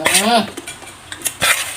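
A spoon scoops and clinks against a dish of miang with sading insects, giving several quick, close, bright metallic knocks and scrapes, with a brief voice underneath.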